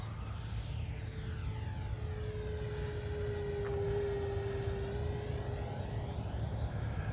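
An E-flite Super Timber 1.7m RC plane flies aerobatics at a little over half throttle, its electric motor giving a steady, fairly faint drone with a slow rise and fall in pitch as it passes overhead.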